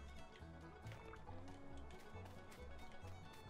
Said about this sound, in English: I'm hearing water sounds like right here.